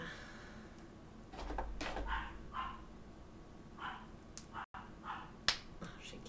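A male dog barks at a female dog, urging her to play, in a few short, sharp yips and barks spread through the stretch, moderately near and not very loud, with no talk over them.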